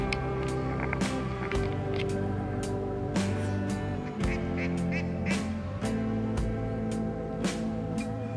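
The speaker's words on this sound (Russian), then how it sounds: "Уточки плавают." Ducks quacking repeatedly on water in a park in Peterhof, Russia, over a steady, busy outdoor background, with calls coming at irregular intervals throughout.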